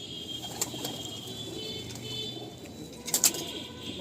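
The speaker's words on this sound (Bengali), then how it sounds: "বাচ্চা পায়রা এটা" Soft, low cooing from a young pigeon in a quiet space, with a few faint clicks and a brief flutter near the end.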